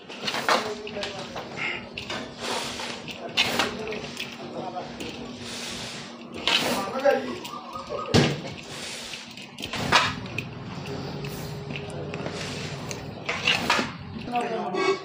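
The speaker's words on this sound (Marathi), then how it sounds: "आता आपण हे मिक्स करतो मस्त असं मिक्स कर." Spice masala for vada pav being mixed in a bowl: clinking and scraping of a spoon against the vessel in irregular knocks and rubs, heard close under a person talking throughout.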